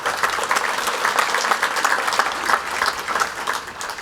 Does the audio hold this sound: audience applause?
yes